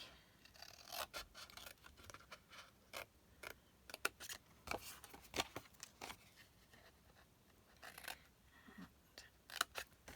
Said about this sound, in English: And then cut that away.